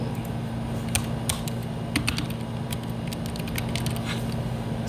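Typing on a computer keyboard, a quick irregular run of close key clicks over a faint steady hum, with no talking.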